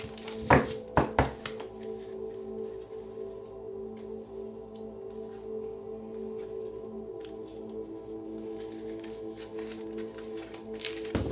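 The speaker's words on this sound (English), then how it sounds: "Last shuffle." Tarot cards are shuffled by hand in a few quick riffling bursts near the start, followed by softer taps and handling noises over a steady background hum.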